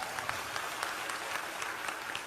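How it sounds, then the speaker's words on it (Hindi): Audience clapping in thanks at a spiritual talk, a steady patter of many hands at moderate distance, fairly quiet and even over the short stretch. "पहले नंबर तो इन्हें ताली बजा के धन्यवाद दो।"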